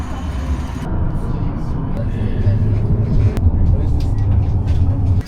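A tram rolling through Amsterdam, its steady low rumble and rattling road noise filling the ride continuously at close range, with a brief sharp click partway through.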